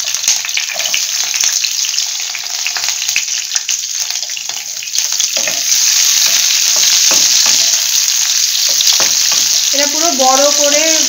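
Onions fry in hot white oil for paneer do pyaza. A loud, steady close sizzle grows slightly stronger midway, with brief stirring scrapes and a few whistling tones near the end.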